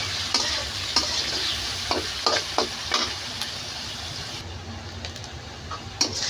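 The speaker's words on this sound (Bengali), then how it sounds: "এখন দেব পেঁয়াজ কুচি ভালো মতো একটু ভেজে নেবো" Chopped onion frying in oil with bay leaf in a pan, a close, loud continuous sizzle broken by repeated scraping strokes of a stirring spoon.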